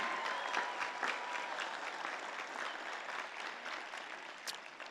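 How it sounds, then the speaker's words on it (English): Applause from a crowd at an outdoor high school graduation ceremony in a stadium, a sustained wash of many hands clapping at moderate distance, steady and even for the whole stretch with no talk over it. "one more round of applause"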